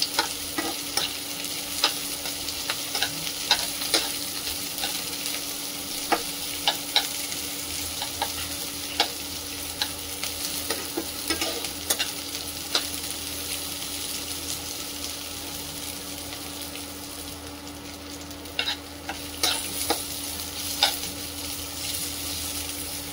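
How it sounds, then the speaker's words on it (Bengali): Sliced onions stir-fried in a pan for a village-style fish curry, a steady close sizzle filling the whole stretch with frequent scrapes and clicks of stirring, no talk. "পেঁয়াজগুলো আমি দিয়ে এরপর একটু নাড়াচাড়া করে ভালো করে কষে"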